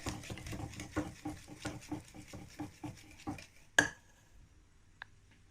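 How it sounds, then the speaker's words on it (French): A whisk or spoon stirring cake batter with baking powder in a bowl, a steady rhythmic scraping and tapping against the bowl for several seconds, then a sharp clink and a quiet pause with faint taps. "Pour remuer sans arrêt pour ne pas avoir des grumeaux."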